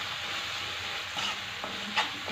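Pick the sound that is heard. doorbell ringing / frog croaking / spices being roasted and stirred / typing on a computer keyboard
spices being roasted and stirred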